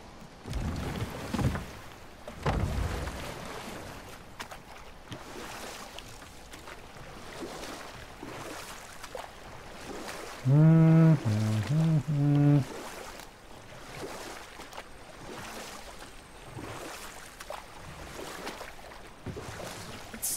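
A wooden boat rowed across water in God of War, with soft rhythmic oar splashes and hull creaks over a steady watery wash; a short tonal in-game voice or music phrase rises briefly midway.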